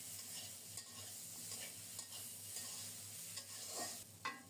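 Brinjal is stirred and sautéed with spices over low heat in a covered pan, giving a quiet, steady sizzle with occasional soft scraping stirs and no talking.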